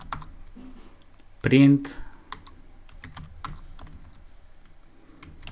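Typing on a computer keyboard while writing Python code produces scattered close clicks and key taps, with someone talking over them throughout.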